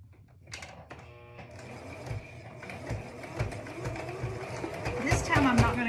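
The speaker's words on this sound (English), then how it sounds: "I'm gonna stitch it down flat" A sewing machine starts up and stitches down a folded piece of a child's hat, its whirring hum building from quiet to steady and louder over several seconds while someone talks over it.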